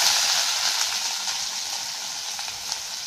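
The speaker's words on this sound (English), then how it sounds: "now we will fry until the onions are soft and golden brown" Onions frying in a pan with black cumin seeds for a Bengali potato and poppy seed dish, giving a loud, even, continuous close sizzle with faint stirring and no voices.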